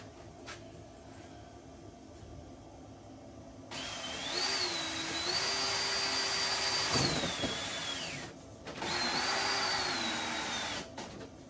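A power drill boring a hole in composite board whines up and runs steadily for several seconds, pauses briefly, then spins again, loud and close with no talking.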